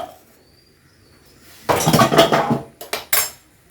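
A roasting dish is stirred in a metal pan, giving a burst of scraping and clinking utensil strokes followed by two short separate knocks, close and fairly loud against a quiet kitchen.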